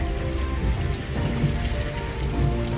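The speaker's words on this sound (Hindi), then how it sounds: "क्योंकि बरसात बहुत ज़्यादा तेज है।" Heavy monsoon downpour pounds beside a flooded river, a thick, steady roar of rain on surfaces with a rumbling low wash underneath, loud and constant throughout without speech.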